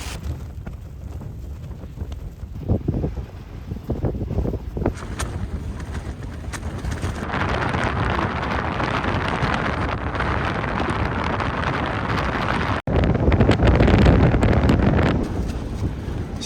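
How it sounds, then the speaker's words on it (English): Strong wind buffets a Lanshan tent pitched in the Pyrenees, a constant close roar with rumbling gusts and flapping fabric that swells louder toward the end. "Because the wind is so strong"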